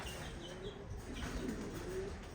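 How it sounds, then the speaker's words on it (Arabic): Pigeons coo softly in a loft, with a few low, faint coos and a brief chirp over a steady background hiss, heard at a distance and with no talking. "كنصور لكم الحمام ما شاء الله"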